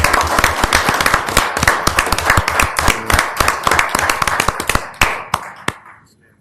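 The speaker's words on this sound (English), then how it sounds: "So please give everyone a round of applause" Applause for award winners, including a Citizen of the Year, at an event held at a riverside resort and casino: a modest group clapping near and distinct, individual claps audible, tapering off to a few last claps.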